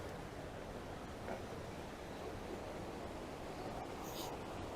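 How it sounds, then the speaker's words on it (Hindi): Waterfall at Noori Chamb in Kashmir, water falling in a steady, continuous broadband rush that fills the whole clip at an even level, with no talking. "उधर से झरने में पानी गिर रहा है"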